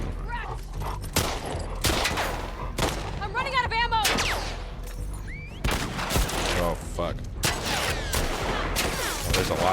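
Rapid gunfire in The Last of Us Part 2 cracks out in repeated sharp bursts across the whole stretch, loud and close, mixed with shouting voices and talking.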